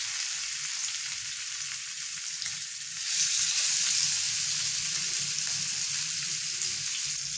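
Fish pieces frying on a tawa in a non-stick pan, giving a steady close sizzle that swells louder partway through and then holds, with no talk over it.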